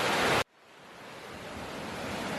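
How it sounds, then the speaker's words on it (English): A river rushes below a hiking trail near Dinas Rock as a steady, hissing roar of water. A loud burst at the start cuts out abruptly before the flowing noise settles and slowly grows. "Woo, that's some river running down there."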